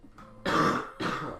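One person gives two rough, throaty coughs close to the microphone, the first stronger and the second right after, with no talk over them.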